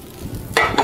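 Food being stirred in a pan, a brief soft scrape followed by a sudden brighter sizzling swish near the end, close and short with no voices.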